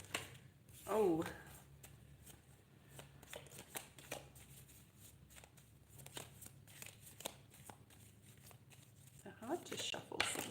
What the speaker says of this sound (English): They're hard to shuffle. Too many cards.